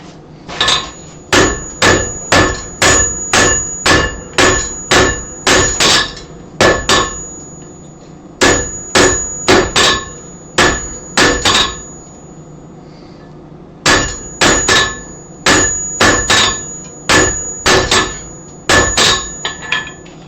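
Heavy hammer blows on a hot steel billet being forge-welded ring out loud and close in quick, regular runs of ringing strikes, broken by a few short pauses.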